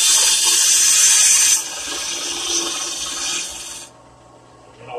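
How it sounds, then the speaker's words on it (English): A wood lathe scrapes a log into a coffee mug with a loud, steady, hissing cut that eases partway through and stops near the end. "So here's a scraping cut."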